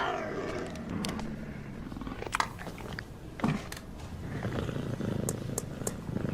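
A puma gives low rumbling purrs and growls with a few sharp snarl-like bursts, close and continuous, with scattered crackly clicks and no speech.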